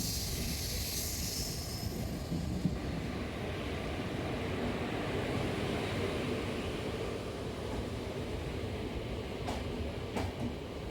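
An express train rumbles steadily past on the adjacent track, a continuous roar of wheels on rails with a faint metallic clatter throughout, on the Yesvantpur–Mangalore Central line.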